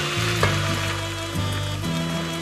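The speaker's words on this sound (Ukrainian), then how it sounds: "Капуста почала підсмажуватися." Cabbage sizzles and crackles steadily in a hot pan, with a few clinks and scrapes of stirring, close up and without voices.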